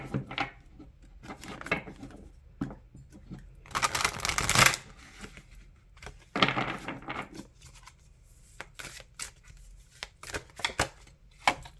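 Oracle cards being shuffled by hand in a quiet room, with a run of soft riffling bursts and flicks, one louder flurry in the middle, spaced by short pauses.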